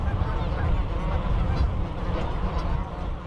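A goose call imitates the low, rumbling murmur of geese, with a dense run of soft, bassy honks and growls, close and steady for the whole stretch without talking.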